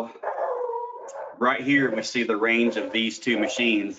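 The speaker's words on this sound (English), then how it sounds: "sorry about the dogs in the background." Dogs barking and howling in the background of a room, a drawn-out canine howl followed by yips and whimpers that run under a man's steady speech.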